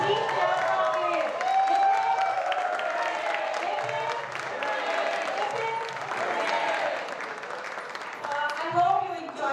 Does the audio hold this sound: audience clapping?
yes